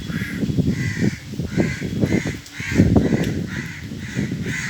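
Several crows caw repeatedly in steady rain on a monsoon morning, the calls fairly close and loud over a constant hiss of falling water, with no voices.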